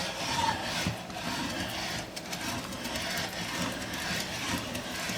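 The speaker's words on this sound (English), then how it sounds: "Look at how nice that grinds your ham." A hand-cranked food grinder grinds ham for a sandwich spread, giving a continuous, close rubbing and scraping churn at fairly low volume with little change across the clip.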